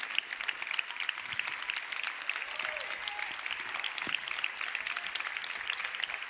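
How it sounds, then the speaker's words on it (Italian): Sustained audience applause for a professor at an international dubbing awards ceremony, a dense, even wash of clapping hands lasting several seconds with no speech over it. "si prenda tutto l'applauso."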